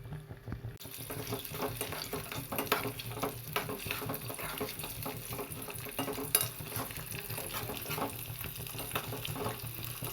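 Hibiscus flowers frying in oil in a bowl over a gas stove, giving a steady crackling sizzle with scattered pops and bubbling that runs on at an even level.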